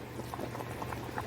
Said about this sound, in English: We got it at almost a full boil at the moment.